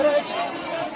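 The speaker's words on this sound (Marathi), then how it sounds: "भाजीपालानेच गल्लीला जास्त गर्दी" Crowd bustle fills a busy vegetable market lane at Mulher bazaar, a steady dense hubbub of many overlapping voices and movement, fairly close and continuous throughout.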